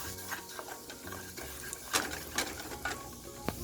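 Thyme leaves and cumin seeds stirred in a hot pan, with soft scraping strokes and light sizzling, a few sharper clicks of the utensil against the pan, close and steady with no talk.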